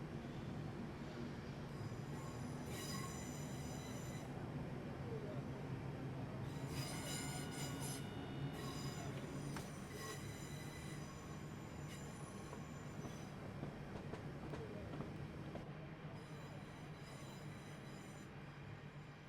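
Class 455 train in Train Sim passing over a junction between Woking and London Waterloo, with steady rumbling and repeated high wheel squeals, no talking.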